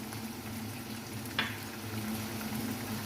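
Tomatoes, green chilies and biryani masala frying with onions for chana biryani, a soft steady sizzle with one brief scrape of stirring midway.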